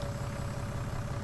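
A tractor engine idles in Farming Simulator 19 on the Felsbrunn map, a steady low rumbling drone with a faint tonal hum, even and continuous with no talk over it.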